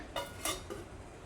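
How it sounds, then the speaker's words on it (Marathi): Metal lid set onto a tin sitting in a pot of boiling water for steaming kharvas milk pudding, three quick light metallic clinks, quiet and close, no voices. "ह्याच्यावर आपण झाकण लावूया."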